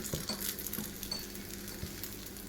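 Bun dosa frying on its second side in a pan: a steady, quiet sizzle and patter of oil with a few soft clinks, continuous throughout with no talking.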